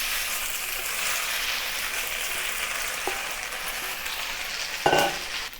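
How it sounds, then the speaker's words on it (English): Flat rice noodles for beef hor fun sizzle and fry in a well-seasoned cast iron wok over medium heat, a steady close hiss broken by one sharper burst near the end. "Add the noodles to the wok and spread it thinly."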